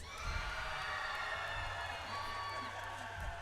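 A crowd at a FIRST Robotics Competition event in Rochester, NY cheers and shouts for the Blue Alliance, a steady wash of whoops and yelling that holds for a few seconds.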